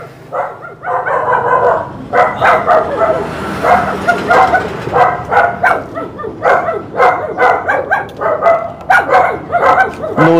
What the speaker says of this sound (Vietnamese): nuôi rất là nhiều chó cô bác anh chị.